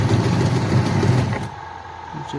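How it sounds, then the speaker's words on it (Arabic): A plastic washing machine's motor runs after a new wash timer is fitted, a steady mid-pitched hum that is loud at first, then drops to a quieter whir with a faint tone. "شوفوا ترى الموتور يمشي"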